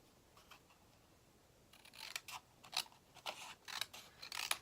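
Scissors cut through craft paper for a card, a series of close, crisp snips coming in a fairly regular rhythm and growing louder in the second half, with no talking.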